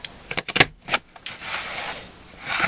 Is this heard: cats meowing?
no